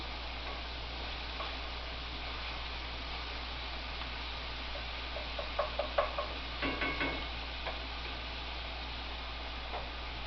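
Ground meat sizzles steadily in a pan as it cooks down for cowboy spaghetti, a soft continuous hiss with a few brief clicks and pops near the middle.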